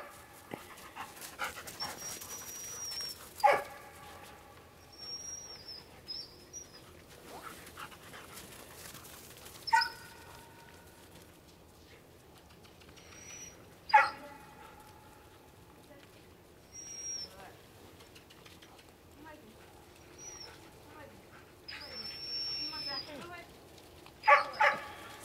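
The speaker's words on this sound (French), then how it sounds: "Ça, c'est un chien puissant, là." A herding dog panting and whimpering with a few sharp barks at intervals, near and fairly loud, over a quiet outdoor background with occasional voices.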